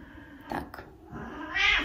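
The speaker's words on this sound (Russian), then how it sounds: "Кот недовольный, конечно же." A displeased cat meows in a quiet room, one drawn-out complaining cry followed by a louder, higher, strained meow at the end, close and alone.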